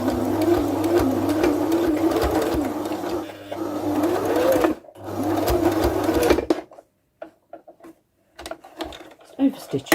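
A sewing machine stitches a fabric face covering, running steadily and loud for several seconds, pausing briefly, then running again before stopping, followed by a few faint handling clicks.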